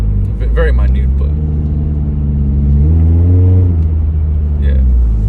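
A 2011-or-later Scion tC with a HIKEit X9 throttle controller in sport setting accelerates on the road, its engine droning steadily and then rising in pitch as revs climb, with someone talking over the loud cabin rumble.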